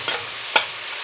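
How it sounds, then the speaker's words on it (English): Two quick metallic scrapes of velveted meat being stir-fried and tossed in a pan, a half second apart, over a steady background hiss. "Now we can start stir frying, do a little tossing."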